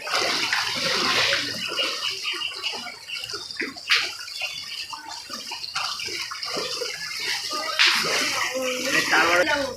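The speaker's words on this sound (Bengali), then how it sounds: "চারিদিক দিয়ে জল বেরোচ্ছে ড্রেনের ভেতর দিয়ে।" Flood water gushes out through a street drain: a continuous rushing, splashing wash with sharp slaps and surges, fairly distant and steady over the whole stretch.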